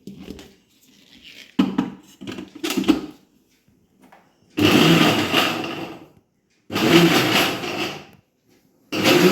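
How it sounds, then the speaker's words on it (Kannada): A kitchen mixer grinder whirs through soaked jackfruit seeds in loud bursts of a second or two, separated by pauses and scattered clicks and knocks as the jar is handled. "ಈಗ ಒಂದು ಸಲ ಕೈಯಲ್ಲಿ ಮಿಕ್ಸ್ ಮಾಡಿಕೊಂಡು ಮಿಕ್ಸಿ ರನ್ ಮಾಡೋದು ಒಳ್ಳೆಯದು"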